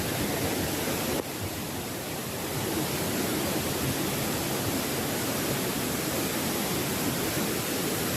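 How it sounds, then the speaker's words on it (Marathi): Steady broadband roar of a waterfall on a plateau, continuous and full across the whole stretch with a brief dip near the start, no voices. "वॉटरफॉल."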